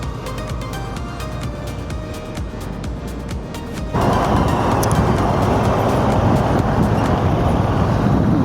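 A car cruising down a highway past the Debra toll plaza gives a steady roar of engine and tyre noise that swells suddenly louder midway and then holds.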